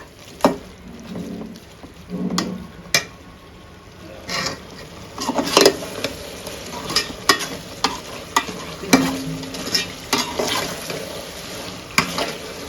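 Spoon stirring tomato pulao with ghee, oil, mint, coriander, curry leaves and spices in a pan, a run of close scraping and clinking strokes over a soft frying sizzle.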